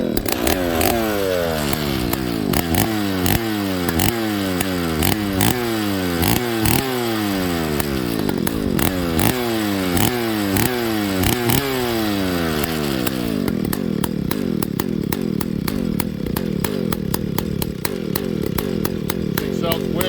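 A Husqvarna 298XP chainsaw fitted with a piped exhaust, revving loudly and repeatedly near the listener in sharp rising bursts, then settling into a steady high-pitched run.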